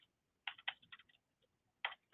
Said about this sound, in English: we're going to type in